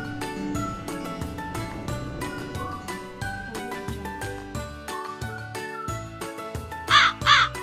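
A cartoon crow caws twice in quick succession near the end, loud and close over a busy backdrop of music and tinkling in an animated kids' story about a thirsty crow.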